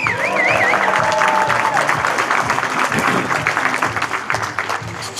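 Audience applause at a live Coast to Coast AM show in Edinburg, Texas: dense clapping and crowd noise, loud at first and slowly thinning, with a brief whistle near the start.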